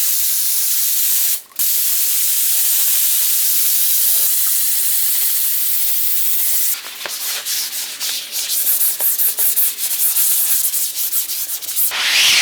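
Steady, loud abrasive rubbing by hand across a reupholstered square body truck seat surface, one long continuous scraping hiss that briefly cuts out, then breaks into rougher, choppier strokes.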